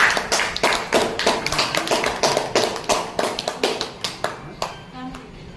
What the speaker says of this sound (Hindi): ताली बजा लीजिए लोग थोड़ा बहुत।